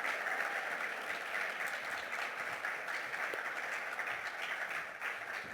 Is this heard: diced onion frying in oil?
no